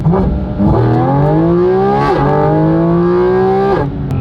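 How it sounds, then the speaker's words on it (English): A Porsche GT4 RS engine revs loudly and up close, its intake roaring as the pitch climbs, dips, and climbs again in repeated pulls. "you can hear the intakes right next to your ear"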